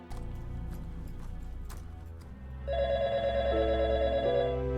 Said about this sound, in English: You can really make a game out of how many times this phone rings during the movie